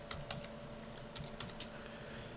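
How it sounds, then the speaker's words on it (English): Typing a file name on a computer keyboard, a quick uneven run of soft light key clicks over a faint steady hum, close but quiet, with no talking. "We'll type CleanFlight _ Sparky in caps"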